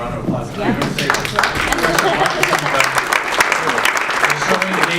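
Audience applause at a creative placemaking forum, a steady broad wash of clapping through the whole stretch with voices mixed in.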